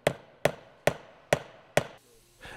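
Hammer blows setting Flexco Alligator rivet fasteners in their installation tool, five sharp metallic strikes at an even steady pace, close and loud, then a softer knock.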